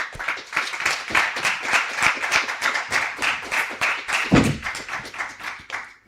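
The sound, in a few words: audience applause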